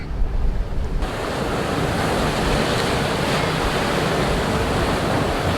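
Sea waves break continuously at Bakkhali beach in West Bengal, a loud, steady roar of surf mixed with wind buffeting the microphone, with no voices.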